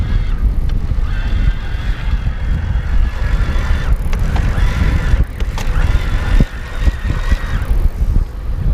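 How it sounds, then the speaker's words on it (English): A Bulls Cross Lite EVO e-bike's drive motor whines steadily while pedalling in a high gear, its thin high-pitched tone rising and shifting over constant low road and wind rumble. "you'll hear how it sort of changes and the motor becomes a little bit more pronounced, sort of high pitched."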